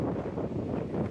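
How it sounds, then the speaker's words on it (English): Gusty wind buffets an open microphone on a riverbank while barbel and chub fishing on the Hampshire Avon, a steady low rumble lasting about a second with no pauses. "this wind and weather is horrendous"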